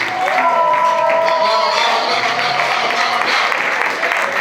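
A church congregation at an Assemblée de Dieu service claps and cheers for Jesus in a steady, full burst of applause and crowd noise, with voices mixed through it.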